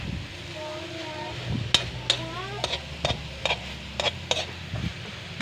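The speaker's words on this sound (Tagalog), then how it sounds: "Haluin lang natin ulit para maluto rin yung kabilang side." Bitter gourd (ampalaya) being stirred in a sizzling pan at home, with a steady frying hiss broken by a series of sharp metallic clinks and scrapes from the utensil against the pan.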